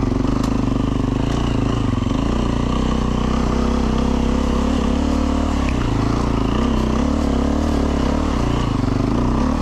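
A four-stroke enduro motorcycle climbs uphill on a Red Bull Romaniacs mountain trail, its engine droning loud and steady at low revs, with rattling clatter from the terrain and no voices.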